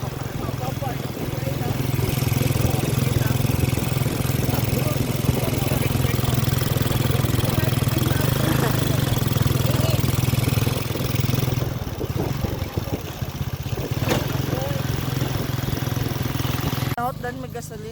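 Motorcycle engine idling close by with a steady, rattling low throb that holds for the whole stretch, while people chat over it.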